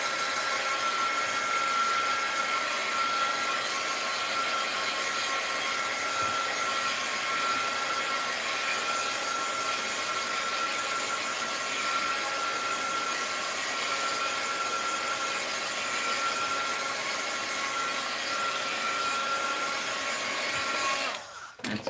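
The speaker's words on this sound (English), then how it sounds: "So I will say heat gun alert." Heat gun blowing to dry an art journal page, a steady, loud, continuous airy whoosh with a faint motor whine, running unbroken for about twenty seconds before cutting off at the end.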